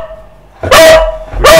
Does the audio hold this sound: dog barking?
yes